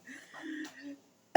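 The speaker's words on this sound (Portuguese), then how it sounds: "Um pigarrinho, sabe?" A woman gives a short, throaty clearing sound, a soft rasping hum with a brief voiced catch in the middle, followed by a sudden sharp noise at the very end.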